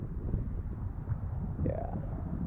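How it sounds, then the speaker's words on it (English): Gusty wind buffeting an outdoor microphone, a low rumbling roar with uneven thumps throughout, briefly joined by a faint rising tone near the end. "it's kind of windy right now"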